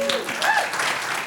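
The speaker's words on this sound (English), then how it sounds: "Another round of applause for" A crowd at an evening film club gathering breaks into brief applause, dense clapping mixed with a voice and cheers over just over a second.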